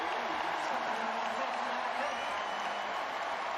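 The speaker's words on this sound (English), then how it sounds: "Listen to this crowd." A basketball arena crowd roars steadily with cheering and applause, a broad, sustained wash of noise throughout the short moment.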